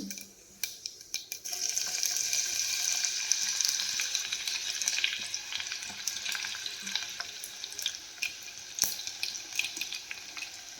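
Cumin seeds and garlic sizzle in hot oil for tempering a sweet-and-sour dal, a steady bright crackle that starts after a brief pause and runs on with small pops and stirring, no voices.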